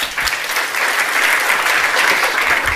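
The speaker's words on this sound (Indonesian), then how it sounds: "Beri tepuk tangan." Church audience at a Tuesday Bible service applauding steadily and loudly, a dense wash of clapping that holds for the whole stretch without a break.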